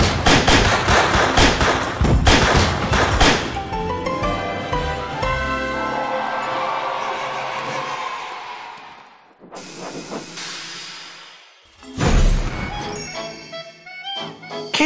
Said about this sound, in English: Those fireworks will light up the sky.